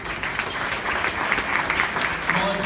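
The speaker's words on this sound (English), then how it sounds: "let's please give him a round of applause." Applause fills a hall at a chamber of commerce anniversary gala, a steady wash of many hands clapping throughout with a few louder individual claps and faint voices mixed in.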